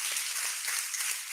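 Classroom applause for a student's answer in a summer career program: a dense, steady wash of many hands clapping close together for a brief moment, with no talk over it.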